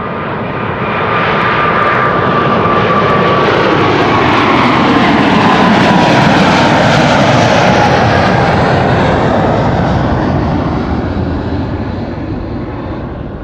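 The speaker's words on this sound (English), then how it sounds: "KLM flight 791 to Sao Paulo, 777-300" A KLM Boeing 777-300 widebody jet departs from Amsterdam Schiphol, its loud, broad engine roar swelling to a sustained peak for about ten seconds before easing slightly, with a thin whining tone early on and no talk.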